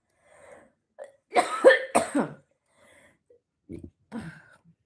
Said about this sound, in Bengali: এতটা কাশি হচ্ছে